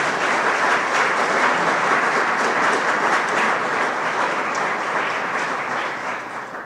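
Sustained audience applause at a building dedication ceremony, dense steady clapping from a large crowd that holds for several seconds and then begins to taper off.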